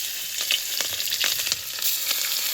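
Green chili peppers sizzling and frying in hot oil with cumin, a steady close crackle with occasional louder pops and stirring, no voices.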